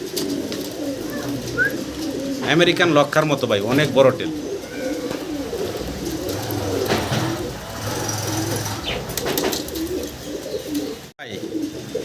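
Lakka pigeons, including a young white Lakka, give soft, low, repeated coos close by, blending with someone talking over them almost continuously.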